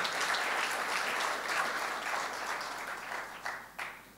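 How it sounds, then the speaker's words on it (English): An audience applauds for the Prime Minister, Tun Dr. Mahathir, at a World Philosophy Day keynote, a dense, steady wash of clapping from a crowd that slowly thins toward the end, with a few louder claps standing out. "Give a big clap to my Prime Minister"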